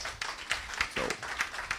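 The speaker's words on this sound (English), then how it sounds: "That was applause, I'll accept it" Faint, scattered clapping from a lecture audience at the Inaugural Freedom Lecture, a few sparse hand claps rising briefly over room noise and a murmur of voices.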